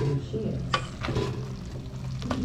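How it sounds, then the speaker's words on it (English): Beef pilau being stirred in a pot for a Swahili home-cooked meal, with a spoon scraping and shifting the rice in a few soft strokes over a steady low simmer, heard close. "So let's wait for the food to get ready. So we have to stir it."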